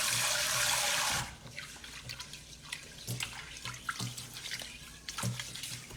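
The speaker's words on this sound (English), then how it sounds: "rinsing it well ensures that you get a really nice, fluffy, flavorful rice" Tap water runs in a steady loud rush for about a second, then gives way to quieter splashing and swishing as rice is rinsed in a sink.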